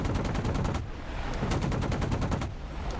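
Apache helicopter cannon fire in the combat simulator DCS World: three rapid bursts of loud, evenly spaced shots, each a fast rattling string of rounds, with short pauses between bursts and no voices.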